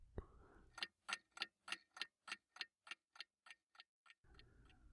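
A clock ticks in a quiet cold room, about a dozen sharp, evenly spaced ticks sounding close and crisp against near silence, with faint background hiss before and after.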